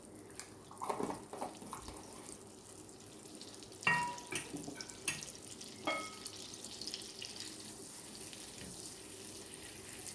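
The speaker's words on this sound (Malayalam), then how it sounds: "ഈ ബട്ടർ ഒന്ന് മെൽറ്റ് ചെയ്യുന്നവരെ ഒന്ന് ഇളക്കിക്കൊണ്ടിരിക്കാം" Ginger-garlic paste stirred in melted butter in a pan gives a faint steady sizzle, with occasional clinks and scrapes of a utensil against the pan, close and without talk.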